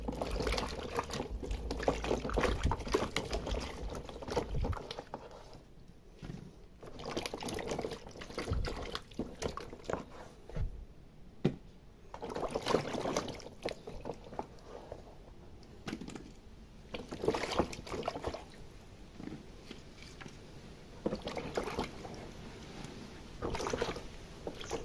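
Water being used to wash something by hand, with splashing, pouring and trickling sounds coming in irregular bursts and pauses, close by and moderately loud, with no clear talk over it.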